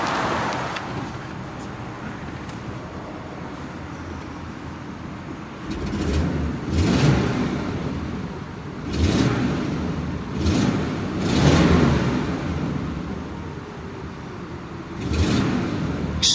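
A 1949 Pontiac Chieftain Deluxe 8 engine idles with a low, smooth rumble, rising in a few short revs and settling back between them.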